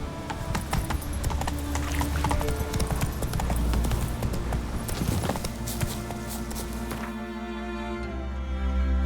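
Hooves clip-clop steadily from a horse in The Witcher 3 video game, loud and continuous across the clip over a game soundscape, with a brief whinny and no speech.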